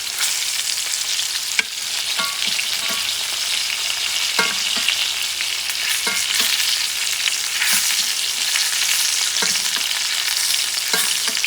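A T-bone steak fries in butter with a loud, continuous sizzle, broken by occasional sharp clicks and scrapes from a utensil against the pan.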